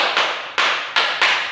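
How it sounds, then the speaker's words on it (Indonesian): Hands clap in a classroom, four or so sharp broadband bursts spaced about a third of a second apart, loud and close with no talk. "Mana tepukan tangannya?"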